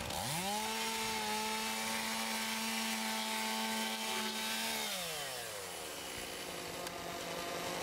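A chainsaw revs up to a high steady whine while cutting through residential roof rafters for fire ventilation, then winds down as the throttle releases, loud and close with no talk.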